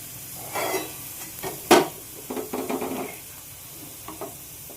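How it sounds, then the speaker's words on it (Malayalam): Sliced onions frying in a pan for Kerala-style chicken curry, a soft sizzle broken by several scraping stirs and one sharp metallic clink near the middle. "ഇനി ബാക്കിയുള്ളതും ഇതേപോലെ തന്നെ നമുക്ക് ഫ്രൈ ചെയ്തെടുക്കാം"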